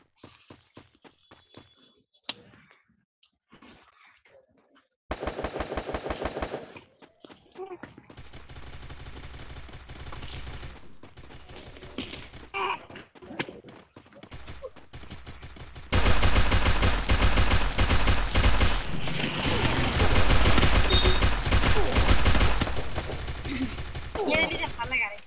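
Gunfire in the mobile battle-royale game Free Fire comes in rapid bursts of repeated shots, with scattered single cracks and short gaps between volleys, then turns into a loud, sustained stretch of fire near the end.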